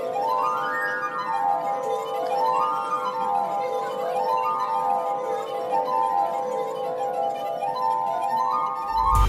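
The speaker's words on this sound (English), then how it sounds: "he moves his wet fingers around the rim of crystal glasses to make incredible sounds" Wet fingers circling the rims of crystal glasses make a glass harp sing with clear, sustained ringing tones that glide up and down in repeated waves, played alone by a street performer.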